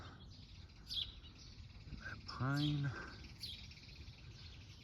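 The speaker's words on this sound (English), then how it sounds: "Oh, there's a bird." A bird calls outdoors in a garden with pine and spruce trees, a short chirping phrase near the middle, with someone talking before and after it.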